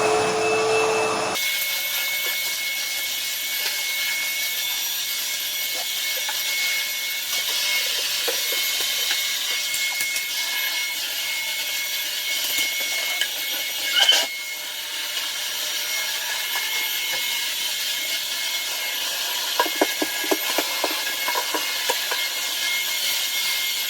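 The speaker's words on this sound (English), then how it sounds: "Right now I'm just doing the last little bit of vacuuming" A vacuum cleaner runs steadily over a kitchen floor with a constant whirring drone, a few brief bumps and knocks partway through, and no talking.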